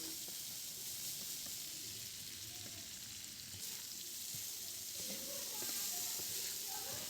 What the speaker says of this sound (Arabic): هقلب بقى المكونات دي كلها مع بعض